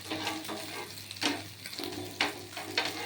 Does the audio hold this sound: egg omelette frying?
yes